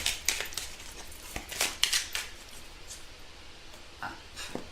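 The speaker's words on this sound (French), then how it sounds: "Donc on va tirer une petite carte." Spiritual oracle cards are shuffled and a single card drawn, giving a handful of short, crisp papery flicks and slides, close up and fairly quiet, with no talking.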